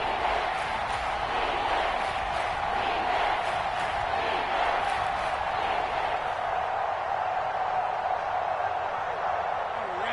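A stadium crowd in a football video game roars in a steady, continuous wash of cheering that stays loud and even, with no separate voices standing out.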